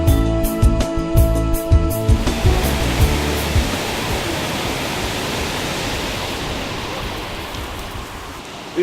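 Water rushes over a lake spillway at a farm, a broad steady roar of flowing water that takes over after some brief tonal sounds at the start and carries on without talk.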